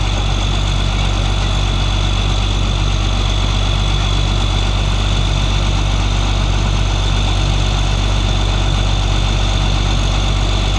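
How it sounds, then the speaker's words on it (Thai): Two backhoes idle at a road construction site, a steady, loud low engine rumble with constant vibration that runs unbroken from start to end, with no voices. "ก็จะมีรถแบคโคสองคันนะ ที่อยู่ที่นี่"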